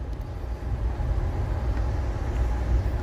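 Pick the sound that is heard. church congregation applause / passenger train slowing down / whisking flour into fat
passenger train slowing down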